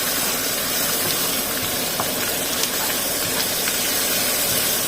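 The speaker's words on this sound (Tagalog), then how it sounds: "Lalagyan po natin ng curry sa may gilid. Dapat kasi yan medyo naaano sa konting oil na po para mas mabango." Curry powder fries in a little hot oil for mutton curry, a steady, loud sizzling hiss running unbroken throughout with faint pops scattered through it.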